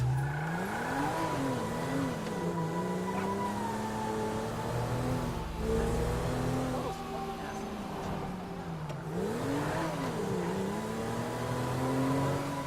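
A car drives in Grand Theft Auto 5, its engine droning with rising and falling revs as it accelerates and shifts, loud and continuous with game voices speaking over it.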